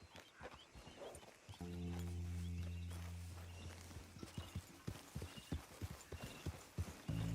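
Horse hooves clip-clop at a walking pace in Red Dead Redemption 2, a western video game, as a rider sets off. The hoofbeats are close and repeated, and a low droning tone swells under them partway through.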